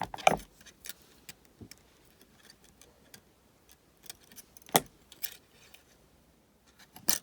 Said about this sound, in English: Cut off the tail end of the weaving wire.